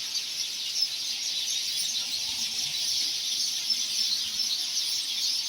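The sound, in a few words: sparrows chirping in a tree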